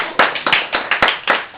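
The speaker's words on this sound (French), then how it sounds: "On applaudit" A small audience claps for a stage performance, a brief, sparse burst of a handful of sharp, close individual claps in an uneven rhythm.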